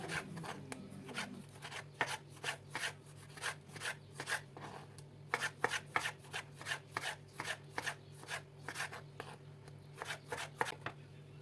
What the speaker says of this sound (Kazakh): қызанақтарымызды да жіңішкелеп, жақсылап турап аламыз